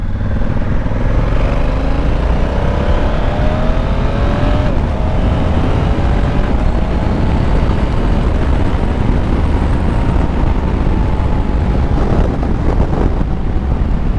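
A 2020 Honda Africa Twin motorcycle accelerates steadily, its engine note rising in pitch over continuous loud wind rush, recorded close from the rider's position with no talk.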